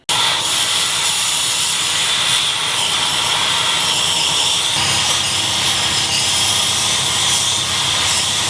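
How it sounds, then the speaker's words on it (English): A power tool cuts through engine motor mounts with a loud, continuous harsh hissing grind that runs unbroken for several seconds and shifts in tone partway through, up close with no voices. "I just go ahead and cut those motor mounts and pull it all out at the same time"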